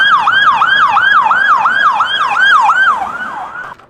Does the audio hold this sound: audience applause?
no